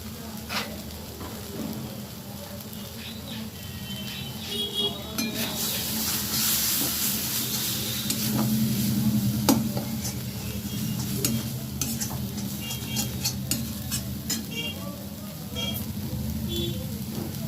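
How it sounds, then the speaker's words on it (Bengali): Ground cumin, coriander and turmeric fry with tomato paste in a pan for potato curry, making a continuous sizzle broken by repeated scraping strokes of a spoon stirring close up, with occasional faint speech. "ভালোভাবে মশলাটা কষিয়ে নেব।"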